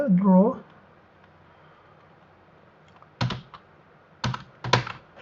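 A short burst of speech opens, then quiet, then several brief clusters of computer keyboard key clicks as a search query is typed, close and crisp.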